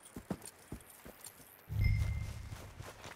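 Horse hooves clip-clop in Red Dead Redemption 2, a few light, spaced hoofbeats at first, then a louder, denser run of galloping hooves with a rumble underneath, fairly close.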